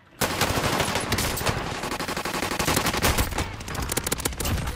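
Video game gunfire: a loud, continuous automatic burst begins almost at once and hammers on with rapid, dense shots through to the end.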